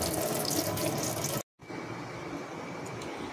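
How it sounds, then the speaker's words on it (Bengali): Running tap water pours steadily over pumpkin leaves being washed one at a time, with a brief break in the flow midway before it resumes. "একটা করে পাতা এভাবে আমি ধুয়ে নেব।"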